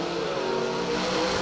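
A drag racing car at a street nationals meet, running with nitrous, makes a loud, sustained engine roar as it launches and pulls hard down the strip, with no voices over it.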